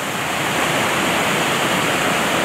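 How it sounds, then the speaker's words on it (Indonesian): Rushing water of the Cimandiri River in Sukabumi, a strong current producing a dense, steady roar of broadband noise, close and loud, constant throughout with no voices. "Arusnya sangat besar sekali sobat."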